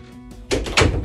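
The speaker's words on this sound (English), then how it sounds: "I'm gonna shut this door." An indoor door in an art studio being pushed shut, giving a single close, solid thunk with a short rattle as it settles.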